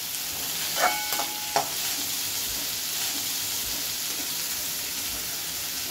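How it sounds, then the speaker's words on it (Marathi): Onions sauté in a pan for Kolambi prawn masala, a soft steady sizzle with a few sharp clinks of a stirring utensil early on, close and otherwise unbroken. "कांदे आपले गोल्डन ब्राऊन होईल ना तोपर्यंत आपण त्याला चांगले परतून घ्यायचे"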